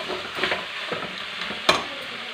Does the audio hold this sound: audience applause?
no